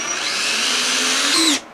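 A power drill drives a decking screw into a wooden stringer of a beehive stand, a steady whirring buzz of about one and a half seconds that rises slightly in pitch before stopping abruptly.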